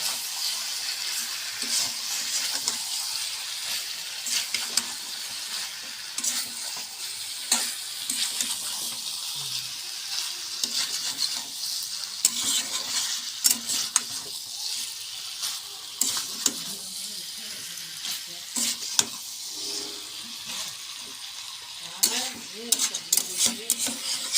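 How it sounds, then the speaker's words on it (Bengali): Chopped tomatoes for a Bengali chicken kosha are stirred in a pan, a continuous close sizzle with frequent small spatula clicks and scrapes against the pan throughout. "টমেটো কুচি দিয়ে দিলাম, এখন লাড়তে থাকবো।"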